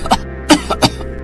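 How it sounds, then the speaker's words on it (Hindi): An elderly woman coughs in several separate bursts over a cold winter night, the coughs close and fairly loud with short gaps between them and no talking. "जिससे अम्मा को खांसी शुरू हो गई।"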